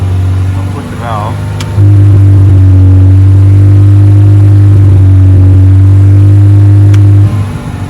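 Car fitted with a loud performance exhaust and an electric cutout, the valve flipped open at about three thousand rpm: a steady, heavy low exhaust drone that jumps louder and holds near, then drops back at the end.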